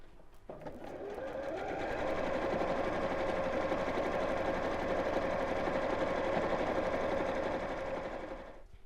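Sewing machine running steadily at a lengthened stitch length, stitching straight quilting lines across two fabric layers for a bottle gift bag; a continuous close whirring hum for about eight seconds, starting and stopping cleanly.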